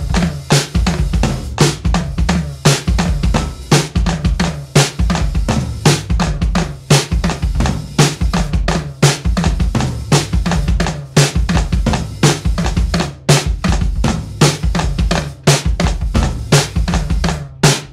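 A drum part plays alone, loud and close: a steady repeating pattern in three with sharp, evenly spaced hits and a full low kick-and-cymbal wash throughout.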